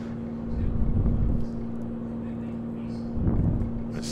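A steady, droning airplane engine hums through a light aircraft in flight on an instrument approach into Watsonville, with a constant tone underneath and two brief swells of rumble, while voices talk over it.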